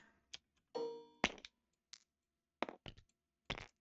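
Dice dropped into a container during a board game, a series of sharp clattering clinks and knocks in irregular bursts, close and distinct in a quiet room.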